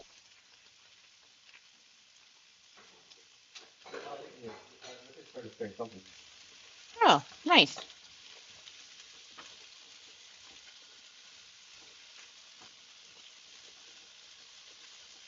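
Vegetables and sausage frying in a pan, a low steady sizzle in the background with a few brief louder bursts, while people talk briefly nearby.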